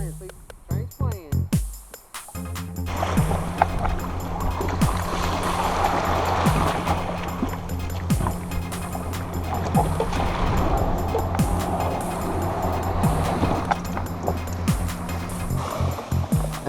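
Ocean surf washing around a kayak off Pensacola, Florida: a steady rushing hiss of waves lasting throughout, after a brief opening of knocks and splashes against the hull.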